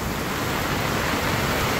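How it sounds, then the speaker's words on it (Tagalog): Dense, steady roar of heavy rain pouring down, loud and unbroken throughout. "Ay, ang lakas po ng ulan."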